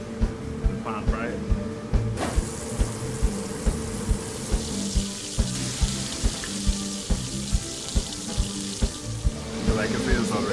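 Floured lionfish pan-fries in hot oil with a steady close sizzle and regular light popping ticks throughout, while someone talks over it.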